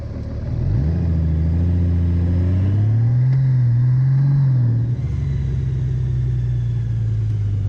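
A 2018 Honda Goldwing Tour DCT motorcycle engine hums steadily and close after downshifting, its pitch swelling briefly in a short rise and dip before settling into an even, continuous idle-like drone.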